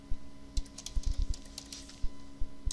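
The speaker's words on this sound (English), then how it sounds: "we'll go ahead and type in some cities, such as Warren, Girard" Rapid, uneven keystrokes on a computer keyboard as city names are entered, a close series of sharp clicks in short bursts with brief pauses, no voices.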